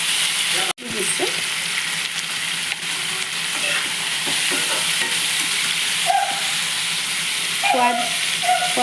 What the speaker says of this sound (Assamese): বিলাহীখিনি এনেকৈ ভাজি ল'ম।